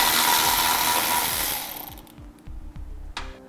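An impact or power tool whirs loudly while removing the rear bumper S-bracket bolts on a 2012 Jeep Wrangler, then spins down and gives way to a few short ratcheting bursts and a sharp metallic clack.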